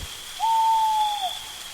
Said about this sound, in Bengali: মাঝে মাঝে কালো পেঁচার চেঁচানি কানে ভেসে আসছে